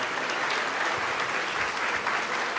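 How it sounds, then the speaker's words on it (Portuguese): A church congregation claps together in a dense, loud, sustained burst of applause, with no voices rising above it. "Vamos dar uma linda salva de palmas para o Senhor."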